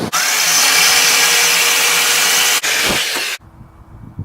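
Power drill boring holes in a Chevy square body truck to mount a cooling fan, a loud steady whine for about three seconds, a brief pause, then a shorter burst that cuts off abruptly into quiet.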